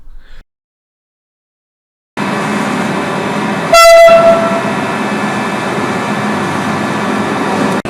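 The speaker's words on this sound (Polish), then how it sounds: "W tej chwili zobaczymy odjazd autobusu do Wolsztyna." A 36WEh rail bus pulls away from a station platform, its loud steady engine and rolling rumble starting after a pause, with a sharp horn toot about midway through.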